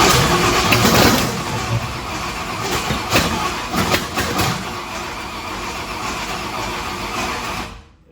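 A 1965 Ford Thunderbird's Ford FE 390 V8 cranks and fires, a loud engine roar that surges and revs unevenly before settling into a steady run, then cuts off abruptly.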